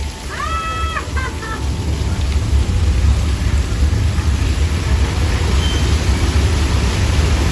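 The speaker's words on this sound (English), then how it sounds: "It's thicker than normal rain." Heavy artificial rain from a Universal Studios Hollywood tour effect pours in a dense, loud, continuous hiss with a deep rumble underneath and a few brief squeals at the start.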